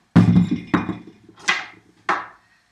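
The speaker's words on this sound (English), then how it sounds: "so I grind my herbs in here" Herbs are pounded in a small mortar and pestle with four separate, sharp, hard knocks spaced about half a second apart, close and fairly loud, with no voices.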